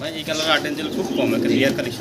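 A pair of red fancy pigeons, zero-feather type, coo steadily in a loft, the soft rolling calls continuous and close with people talking over them throughout.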